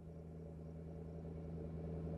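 A car engine in the Roblox game Midnight Dessert, a low, steady idling rumble, faint and continuous for a couple of seconds, with no voices.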